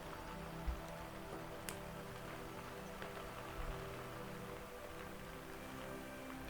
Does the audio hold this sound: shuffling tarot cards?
no